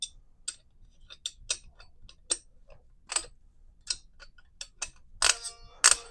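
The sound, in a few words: torque wrench ratcheting while tightening M60E6 gas system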